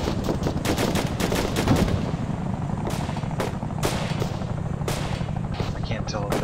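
Gunfire in the military shooter ARMA 3, with repeated sharp shots and bursts, some close and some distant, crackling over a steady rumble of vehicle engines.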